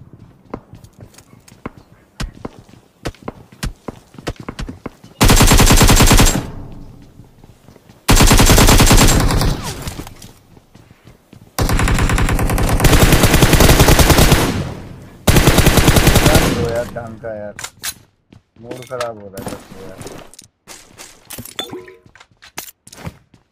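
Gunfire in the mobile battle royale game BGMI comes as long bursts of rapid automatic fire separated by gaps filled with quicker clicks and footstep-like taps, loud and close.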